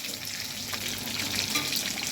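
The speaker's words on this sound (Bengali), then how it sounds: "এই চিকেন ভাজা চলছে।" Marinated chicken pieces frying in a pan of oil for chilli chicken, giving a steady, close, fairly loud sizzle with light stirring scrapes throughout.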